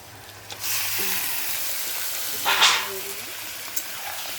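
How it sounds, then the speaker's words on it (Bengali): Chicken pieces added to a pan of browned onions for a spicy chicken kosha, cooked over a wood fire, sizzling and frying steadily with a louder burst of hiss midway, close and moderately loud. "পেঁয়াজটা একটু ভাজা হয়ে গেছে এবারে দিয়ে দেবো চিকেনটা"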